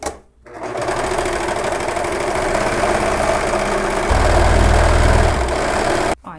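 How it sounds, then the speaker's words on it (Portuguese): An overlock sewing machine gathers fabric for a children's dress in a rapid, continuous mechanical whir that speeds up and grows heavier near the end before stopping abruptly. "Assim eu consigo franzir direto aqui na ultralock."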